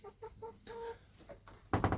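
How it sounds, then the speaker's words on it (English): Chickens cluck softly in a backyard chicken coop on a homestead, a few short, spaced calls, then a louder flurry of clucks at the end, close to the listener. "We're out here in the chicken coop."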